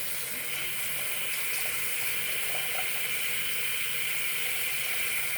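Tap water running steadily into a household sink, a continuous even rush with a bright hiss, fairly close and alone throughout.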